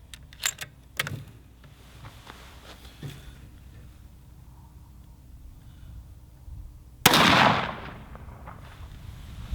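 Gunfire from FMJ rounds in Gray Zone Warfare: a few sharp shots early, then quieter handling, and a single loud close shot with a ringing tail near the end.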